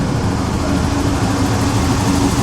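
A Ferrari pulling into a Mille Miglia checkpoint, its engine a loud, steady low rumble held close throughout, with no talk over it.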